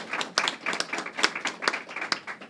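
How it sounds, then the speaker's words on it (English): A small outdoor gathering claps for a fishing boat captain and his first mate, a sparse, uneven patter of individual hand claps rising and falling in loudness. "let's give them a round of applause"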